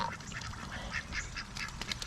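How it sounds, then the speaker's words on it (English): Several geese being fed fresh greens in winter honk and squawk in a noisy, overlapping chorus, close and loud, over a rough background rustle. "Then you have the geese come over and be really loud."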